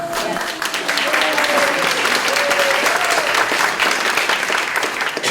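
Sustained audience applause fills a hall at a literacy leaders awards ceremony, steady dense clapping throughout with faint voices over it.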